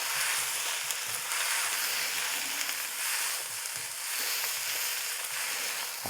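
Thai fried rice with oyster sauce and sugar sizzling steadily in a pan over high heat, a continuous close, loud frying hiss with faint stirring scrapes and no voices.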